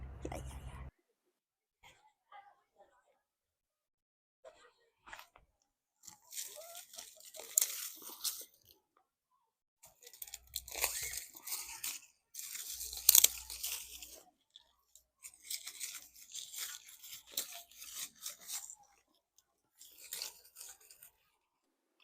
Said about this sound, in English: These crunchy withered sticks were once indeed field beans.